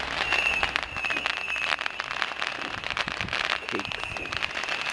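Air bomb fireworks at a Bonfire Night celebration crackle and pop continuously and densely at a moderate distance, a steady barrage of small bursts with no clear pauses.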